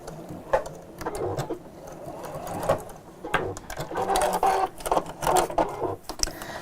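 A foot-pedal sewing machine runs in short bursts, speeding up and slowing as the pedal is pressed, with a busy mechanical chatter close by.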